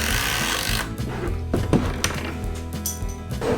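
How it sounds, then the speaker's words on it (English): A power drill whirs and grinds into hardwood with bursts of revving and catching, steady and close throughout. "I'll make a small hole only in the head part to screw with the drill."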